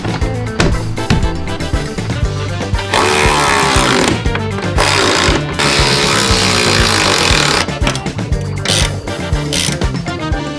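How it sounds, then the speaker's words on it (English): Bolts being fitted loosely on a Cherokee XJ shackle relocation kit, with loud, close metallic clanks and rattling mixed with dense mechanical noise that is sustained through the whole stretch. "So we're gonna go ahead and loosely install this right now."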